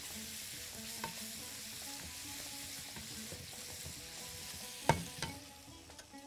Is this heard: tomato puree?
yes